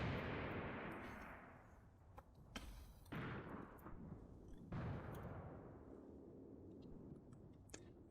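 An anti-tank gun fires repeatedly in the Graviteam Tactics war game, several sharp distant-sounding booms each trailing off into a long rumbling decay, with smaller gunfire cracks scattered between them.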